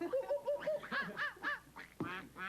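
Ducks quack in a quick series of nasal calls, fairly close and distinct, with a few honking notes toward the end.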